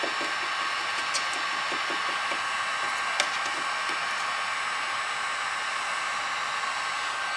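A heat gun blows steadily on a plastic sticker stuck to a car, giving a continuous, even hiss of rushing air close by that holds for the whole stretch with a few faint crackles and clicks.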